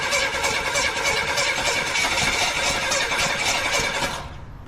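A 1982 Buick Regal engine cranks and fires, a loud, steady rhythmic churning that runs close up for about four seconds before cutting off into quiet.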